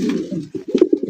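Fancy racer gola pigeons cooing in a seller's loft, a Pakistani-style call: soft, low rolling coos that swell and break into several short pulses over background murmur.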